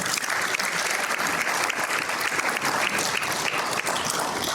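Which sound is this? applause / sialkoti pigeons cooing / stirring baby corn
applause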